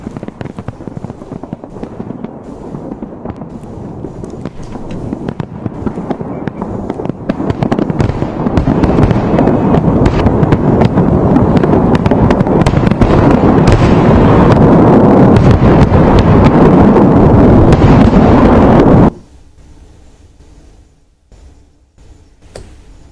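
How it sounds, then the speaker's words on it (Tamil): A night fireworks display at a Moscow war memorial roars as a dense, continuous barrage of bursts and crackles that builds over several seconds, holds loud, then cuts off abruptly to quiet background. "தொடர்ந்து இரவு கண்கவர் வான வேடிக்கை நிகழ்ச்சியும் நடைபெற்றது."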